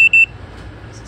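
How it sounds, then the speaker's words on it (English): A keypad entry lock on a camper trailer gives two quick, bright electronic beeps as it locks, close and clear, followed by a quiet room tone. "so it's going to lock and beep"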